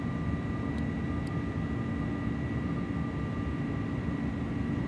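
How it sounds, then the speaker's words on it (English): Engines of an iniBuilds Airbus A300 in a flight simulator climbing out after a TOGA takeoff, a steady, loud broadband roar with a faint constant whine running through all five seconds, no talk. "Sounds just like the plane."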